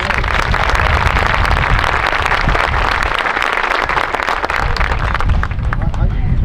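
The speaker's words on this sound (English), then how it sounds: "Let's give them a round of applause" Loud, dense applause from a large crowd at a high school graduation ceremony, a continuous roar of many hands clapping with cheering voices mixed in throughout.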